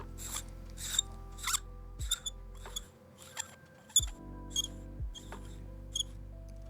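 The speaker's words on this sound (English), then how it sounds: "that was me trying to unscrew and screw back in the barrel" Repeated short squeaks and creaks come from the threaded barrel of a Pilot F 3A fountain pen being unscrewed and screwed back in, heard up close and quiet with brief pauses between twists.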